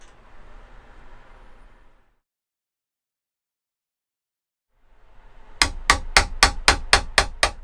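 Hammer striking a chisel to cut a doorknob recess into a camper door, about eight sharp evenly spaced taps in a quick run at the end, after a stretch of faint hiss and silence.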